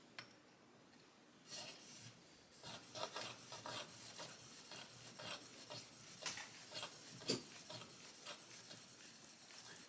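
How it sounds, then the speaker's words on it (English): Shears are sharpened on a 2000 grit nano stone, with close, quiet rhythmic rasping strokes of metal on the stone that start after a brief pause and continue steadily. "2000 grit nano stone"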